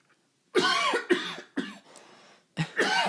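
A series of harsh, loud coughs close by, four or five bursts with short pauses between them.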